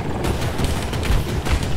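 Gunfire from a helicopter in Battlefield 2042 crackles in a dense, continuous burst of rapid shots with booming low end, steady and fairly loud, no voices.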